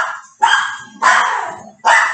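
Household dogs barking right after a doorbell rang: three loud, close bursts of barking, each trailing off before the next, with no talking.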